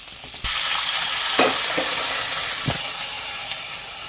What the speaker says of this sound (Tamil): இது வந்து கொஞ்சம் நேரம் நல்லா வந்து ஃப்ரை ஆகட்டும். கலர் சேஞ்ச் ஆகிற வரைக்கும் இதை வந்து வதக்கிக்கலாம்